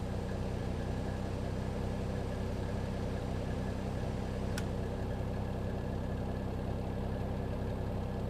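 An Airbus A321neo jet engine starting up in a flight simulator gives a steady, even low drone that holds unchanged throughout, with a single sharp click midway and no speech.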